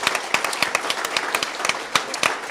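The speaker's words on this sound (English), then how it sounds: "Let's give them a round of applause." An audience at an AI startup competition claps and applauds, a dense run of sharp overlapping claps, loud and close, with no talk over it.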